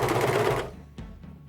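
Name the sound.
serger stitching two fabric edges together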